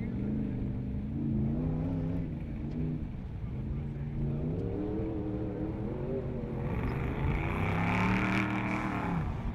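A 4400-class off-road race car at the 2018 King of the Hammers on the Jeep Proving Grounds short course climbs out of desert rocks, its engine revving and rising in pitch and getting louder toward the end, with commentary voices underneath.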